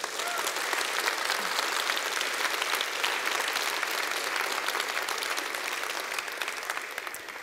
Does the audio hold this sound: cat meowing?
no